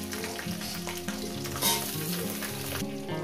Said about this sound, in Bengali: বেগুনটাকে দিয়ে মিনিট 3-4 ধরে আমি বেগুনটাকে সুন্দর করে